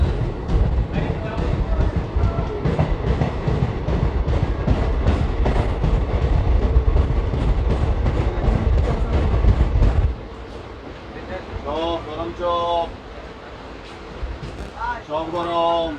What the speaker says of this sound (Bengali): মেছেদা স্টেশনের 5 নম্বর প্ল্যাটফর্ম থেকে আমাদের এই ট্রেন ছেড়ে দিল।